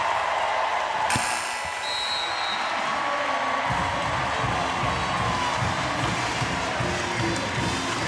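A women's college basketball arena crowd at a March Madness first-round game between Gonzaga and UC Irvine roars loudly and steadily, with cheering and applause sustained throughout and a sharp ping early on.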